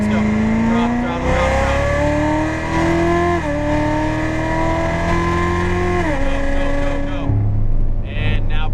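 A Corvette Z06 Stingray at full throttle on a racetrack, engine loud and close as rising harmonic revs climb through several upshifts before easing off near the end, with a voice talking over it.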